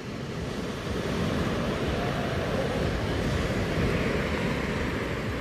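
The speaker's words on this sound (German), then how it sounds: "Das Meer wird immer wilder." Steady roar of rough sea waves churning at Playa de Palma beach, with gusting wind buffeting the microphone, loud and continuous throughout.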